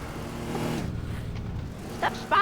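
Car engine in the destruction game Teardown, a brief rumbling motor with rising tonal pitch over the first second, followed by quieter game sounds and a couple of short bursts.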